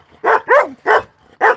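A dog gives four short, loud barks close by in a home setting, each bark sharp and separated by brief pauses, with no talking over them.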